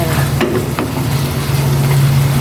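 Steady oil sizzle from tilapia frying in a pan, with a constant low hum underneath and a couple of soft utensil clinks near the start.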